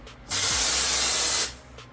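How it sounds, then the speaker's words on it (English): BEEST spray foam bursts from an applicator gun in one loud, steady hiss lasting just over a second, with a quieter lead-in and tail on either side and no talking. "You do it faster, you're going to get a much better spray."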